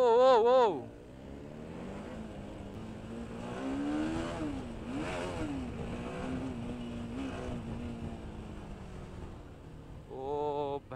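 A KTM Duke motorcycle engine revs hard, rising and dipping in pitch as it accelerates through one gear, heard from nearby, with a brief burst of speech at the start and end.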